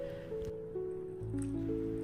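Salted bitter melon being rinsed and squeezed by hand in a bowl of water, soft wet squishing and dripping sounds, close and fairly quiet, with a steady tonal hum underneath.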